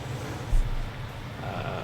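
A short sheep bleat from Farming Simulator 19 rises over a low steady hum, heard once and fairly close.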